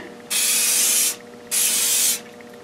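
Two loud hissing bursts from a spray paint can aimed at a wooden floater frame, each lasting under a second, separated by a short pause.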